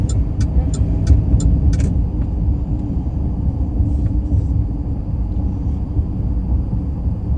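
A car drives through city streets at night with a continuous low road and engine rumble, a few sharp high clicks near the start, and no talking.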